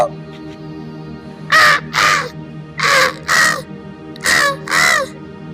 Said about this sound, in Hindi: तभी पेड़ पर बैठे पक्षी उस राक्षस पर चिल्लाने लगते हैं।